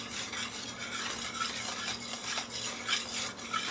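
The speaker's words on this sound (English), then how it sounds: "Just keep stirring and adding your milk little by little until you stir your lumps out." A spoon scraping and stirring gravy in a pan as milk is added bit by bit, a soft continuous swishing and clinking with a faint sizzle underneath, close and fairly quiet.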